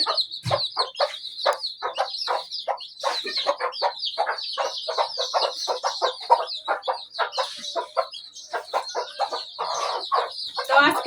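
Chickens cluck continuously and busily at close range, a dense run of short, choppy calls with no talking.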